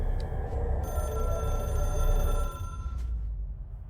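A telephone rings in the Control video game, a steady electronic bell tone sounding for a couple of seconds over a low background rumble, then cutting off.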